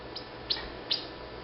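A pet bluebird lets out a few faint, short chirps, sparse and quiet against a low background hiss.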